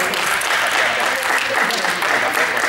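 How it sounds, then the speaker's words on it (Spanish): Classroom applause from a group, a steady burst of clapping that stays loud and even throughout, with some voices mixed in. "Un aplauso."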